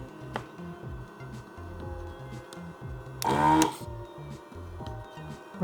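A desoldering machine working on a circuit board runs as a steady mechanical chugging pulse with a brief louder burst of pump or air noise partway through, close and fairly loud, with no talk.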